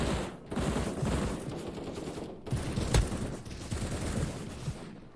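Rapid SMG bursts from a competitive 4v4 shooter game tournament rattle in dense volleys with brief pauses, mid-distance and fairly loud.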